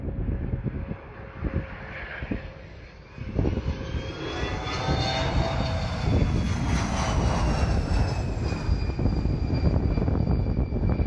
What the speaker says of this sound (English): This is what a plane looks like when it suffers from wind shear,